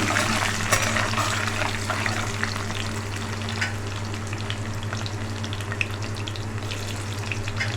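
Chopped garlic sizzling in hot oil for a Chettinad garlic gravy, a steady close crackle and fizz with scattered pops and light stirring, no voices.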